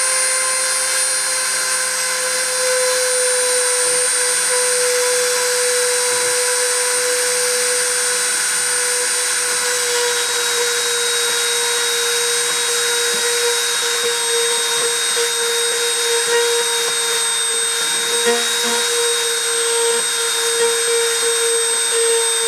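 A CNC machine spindle runs at a steady speed, giving a constant, fairly loud mechanical whine with a stable pitch and no talk over it.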